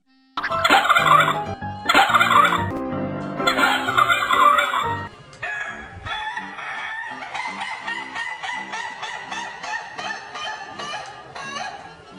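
A cartoon cat character in a video game gives a giggle that sounds like a chicken clucking and crowing, loud and repeated in quick bursts, followed by a softer stretch of jittery, rapid clucking chatter.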